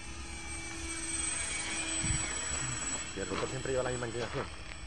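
An electric scale model of a Cierva C6 autogyro whirs with its rotor turning in autorotation, a steady airy hum with a high tonal whine, while someone talks over it near the end.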